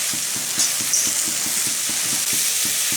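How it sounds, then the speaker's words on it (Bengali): Spiny gourd leaves with salt and turmeric are stirred in a hot pan, a steady sizzle with regular scraping strokes of the spoon, close and alone. "এখন আমি ভালো করে নাড়িয়ে চাড়িয়ে নেব।"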